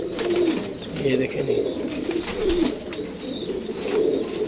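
Golden pigeons coo in a low, repeated murmur close by, with someone talking over them throughout.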